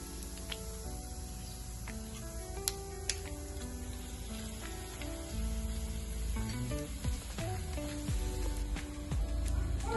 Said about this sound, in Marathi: कढईमध्ये तेल टाकलेलं आहे 2 चमचे. त्याच्यामध्ये टाकून थोडीशी जिरे, लाल सुकी मिरची